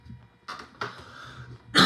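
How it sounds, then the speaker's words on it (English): A man coughs and clears his throat during a Halloween livestream: a couple of short rough bursts, then a louder, harsher cough at the end, close to the microphone, with no speech. "Excuse me while I have a cough"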